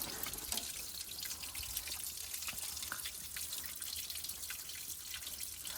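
Water drains from a 1969 Buick Special Deluxe being winterized, a steady close trickle and dribble with scattered drips, soft and continuous throughout with no talking.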